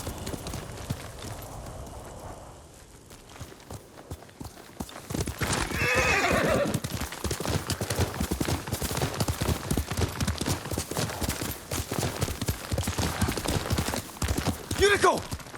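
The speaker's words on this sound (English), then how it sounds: "Yuriko's horse." Hooves clip-clop steadily throughout, with a horse neighing and whinnying, from Yuriko's horse in the video game Ghost of Tsushima; a voice speaks over the sounds at times.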